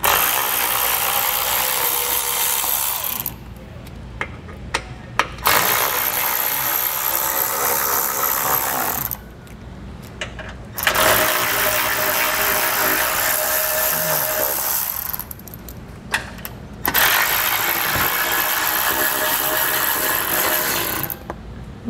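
Power tool whirring in long bursts as 15 mm skid plate bolts come off the underside of a 2022 Chevrolet, with brief ratcheting clicks and pauses between the loud runs.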